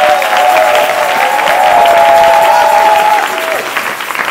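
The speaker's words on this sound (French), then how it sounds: "J'aimerais que tu puisses applaudir pendant que je remets le micro vers le docteur Trésor." Applause fills a church prayer service, a steady wash of clapping from the congregation that holds for a few seconds as a sustained tone sounds over it.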